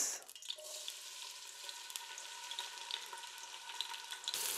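Onions fry in a pan for a spinach-and-mutton curry, giving a soft, even sizzle that holds steady throughout, quiet and close, with light spattering ticks and no talking.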